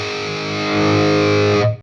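Classic British-voiced Hayden Classic Lead 80 tube guitar amp pushed into power tube distortion, a loud, thick sustained chord with rich harmonics ringing for nearly two seconds before cutting off abruptly.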